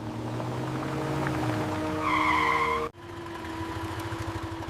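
An expensive car rolls up toward a house, a steady engine hum with a brief higher tonal whine, then a sudden cut and the motor continuing, fairly close and unaccompanied by talk.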